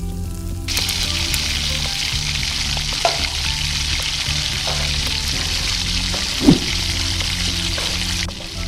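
Chopped tomatoes go into a hot pan for a green sundakkai chutney and fry with a steady, close sizzle. A few soft stirring clinks sound along the way, and a quiet music track plays underneath.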